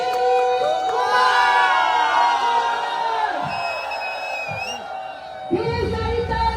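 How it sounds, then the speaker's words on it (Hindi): A large crowd at a motivational speech event in Nagpur cheers, whoops and shouts loudly as a speaker is introduced, with raised voices carrying through a sustained roar and a sharp burst near the end. "ढेर सारी तालियां सीटियां"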